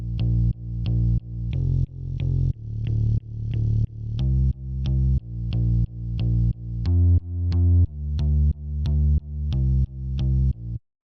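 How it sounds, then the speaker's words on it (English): A distorted bass synth pulses in steady, pumping eighth notes, each hit swelling up then cutting off, looping evenly with no voices. "So the next thing we have here is the bass"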